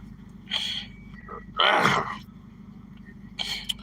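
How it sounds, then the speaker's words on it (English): A single loud sneeze up close, preceded by a breathy intake and followed by a faint exhale, over a low background hum. "now I gotta sneeze"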